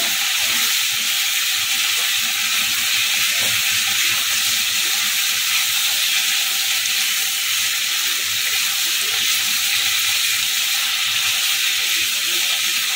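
Tomatoes and potatoes sauté in a pan for a turmeric-free Bengali potato curry, giving a loud, unbroken hiss of steam and sizzle that holds steady throughout with no voices.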